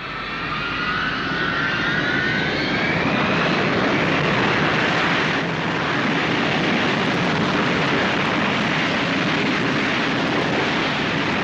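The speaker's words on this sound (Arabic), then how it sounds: "الطيارة طارت" An airplane roars loudly and steadily overhead, its broad engine rumble joined early by a rising whine that fades as the aircraft flies off, with no one speaking.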